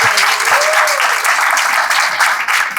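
Audience applause after a question at a literature and philosophy lecture, a steady burst of clapping from a hall crowd lasting a few seconds.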